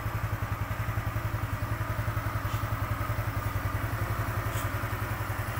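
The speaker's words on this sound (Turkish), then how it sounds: "Egzozlar çalışması böyle." A Kuba Kristal 50cc scooter idles with a steady, rapid exhaust putter, close and fairly loud, holding an even rhythm throughout without any talk.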